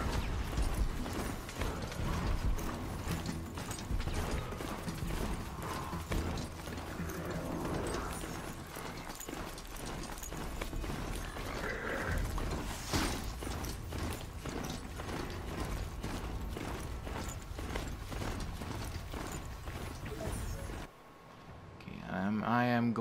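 A mechanical machine mount is ridden on horseback in Horizon Zero Dawn, with a continuous clanking, ratcheting gait of metallic hoofbeats and gears. A person talks over it throughout.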